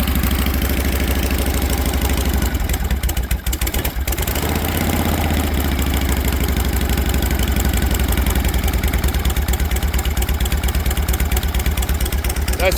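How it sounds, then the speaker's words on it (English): A kick-started longfork chopper motorcycle engine runs steadily at high idle with the throttle lock set while it warms up, a loud, close, continuous rumbling beat that holds even throughout. "I've got the throttle lock back on high idle just to get her warmed up."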